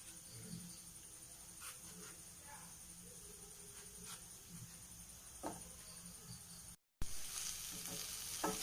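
Chopped tomatoes sautéing in chicken roast masala, a faint steady sizzle with occasional soft stirring scrapes, briefly cut off and then resuming slightly louder.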